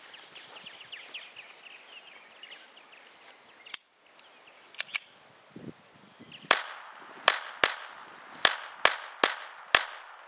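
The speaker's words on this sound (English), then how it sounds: "Kill that one with the 22, see if there's any real big difference." A .22 rifle fires at a soda can outdoors, producing a series of sharp, loud cracks. A few shots are spaced apart, then a quicker run of evenly spaced reports follows near the end.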